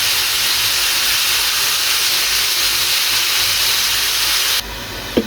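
Pork and chicken adobo sizzles steadily in a pan, a loud continuous hiss of frying that runs unbroken for several seconds before dropping slightly, with a brief clatter at the end.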